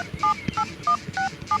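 Phone keypad being dialed: five short dual-tone beeps in an uneven rhythm, fairly close and clear, with faint background noise between presses and no talk.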